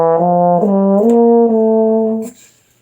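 A trombone plays a short, syncopated phrase of sustained, connected notes that step upward, loud and close, ending abruptly with a brief breathy tail.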